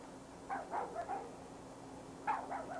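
Dog outdoors gives two short clusters of muffled barks and whimpers, three or four yips each, fairly distant and faint, separated by a quiet gap.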